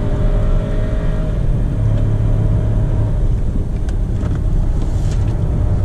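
A 2019 VW Polo 200 TSI drives along with a steady low engine drone and road rumble heard from inside the cabin, continuous and loud with some wind noise.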